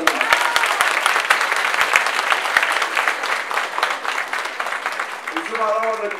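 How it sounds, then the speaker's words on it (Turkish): Applause from a crowd at a political party's solidarity dinner, sustained and dense throughout, with a voice over a loudspeaker coming in near the end. "bugün o değerlerini bizle paylaşan bu insanlara bir alkış daha istiyorum."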